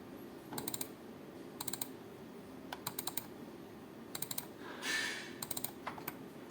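A computer keyboard and mouse at a desk give short clusters of crisp clicks, pairs and small bursts repeating every second or so, close and fairly quiet over a soft background hiss.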